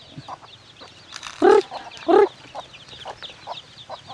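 Rhode Island-cross chickens cluck softly nearby, with two louder, sharp squawks standing out in the middle of the low clucking.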